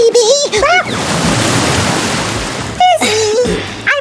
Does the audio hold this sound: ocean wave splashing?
yes